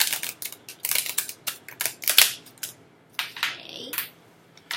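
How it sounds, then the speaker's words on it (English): A deck of tarot cards is shuffled by hand close up, producing crisp papery snaps and riffling flicks in quick irregular bursts with brief gaps between them. "I'm just gonna shuffle it a little bit more."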